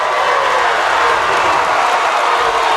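A crowd cheers and applauds in a dense, continuous roar at a WPIAL 5A boys basketball quarterfinal between Hampton and Laurel Highlands after an alley-oop, loud and sustained.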